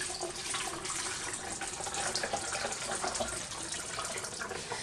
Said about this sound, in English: Now I like to go ahead and pour in about half of my water.